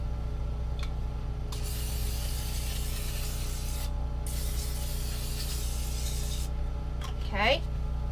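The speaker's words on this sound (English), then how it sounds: "I spray them with some cooking spray." Cooking spray is sprayed onto food in a pot in a few hissing bursts of varying length over a constant low background hum, with a brief voice near the end.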